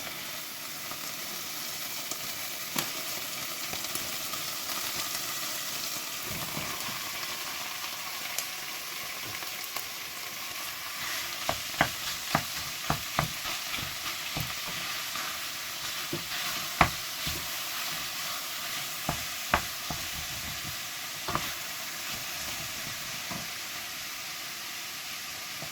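Mince frying in a pan, a steady close sizzle and hiss with scattered sharp clicks and scrapes from a utensil stirring through the meat, no talk.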